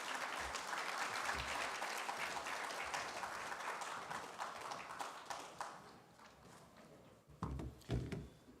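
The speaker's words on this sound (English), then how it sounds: "Another round of applause for the Honorable Minister of State Petroleum Resources, Gas" Applause from a conference audience at a main plenary session honouring a petroleum and gas minister, a dense sustained roar of many hands clapping that fades over several seconds before a few louder scattered claps and thumps near the end.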